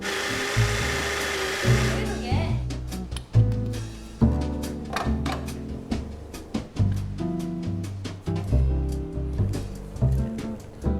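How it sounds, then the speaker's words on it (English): A coffee grinder, a Sette 270Wi or a commercial grinder, grinds espresso beans in a loud, brief burst of about two seconds. Rhythmic music with a steady beat follows for the rest of the clip. "we're going to grind and pull shot with the Sette 270Wi and Sette 30, as well as a commercial grinder"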